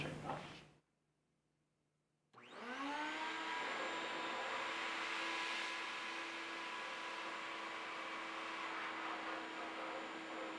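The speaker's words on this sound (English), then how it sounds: "what we can do is turn the vacuum on high" A vacuum cleaner used in a physics classroom demonstration switches on and spins up to its high setting, its motor whine rising in pitch and then holding a loud, steady roar. A brief sound and near silence come before it.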